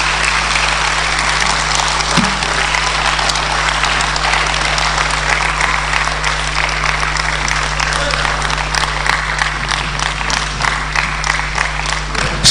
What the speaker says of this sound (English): Shall we give our national chairman another rousing round of applause?